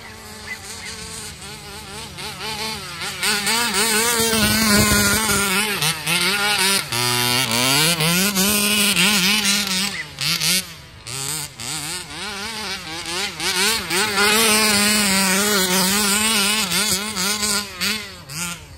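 Small RC cars drift at an outdoor bash track at Marchwood, their electric motors whining in a high, buzzy pitch that rises and falls with each slide, loud and near, with no talk heard.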